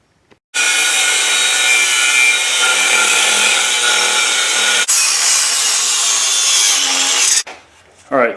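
A metal piece for a Jeep TJ transmission crossmember is cut with a continuous, loud, even grinding rasp lasting several seconds, with a brief break partway through, before it stops abruptly and a few clatters follow.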